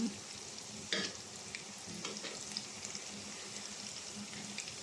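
Ginger fries in a pan for squid adobo, a soft continuous sizzle with a few spoon stirs and scrapes, quiet and close with no talking.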